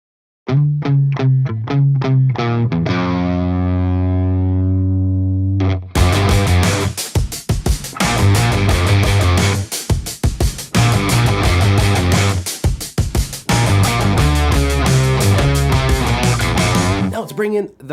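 A distorted electric guitar, recorded direct through a load box into an impulse response, plays a descending riff, then launches into loud, crunchy chugging chords with brief pauses.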